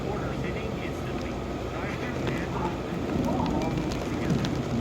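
Wind-driven rain blows sideways against a window, a steady broad rushing patter under ongoing talk that grows slightly louder toward the end.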